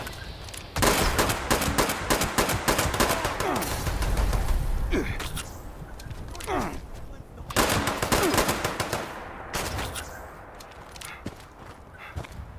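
Weapon fire in the video game Fallout 76 arrives as long, loud rattling bursts of automatic shots separated by pauses, with scattered single cracks and a voice speaking in between.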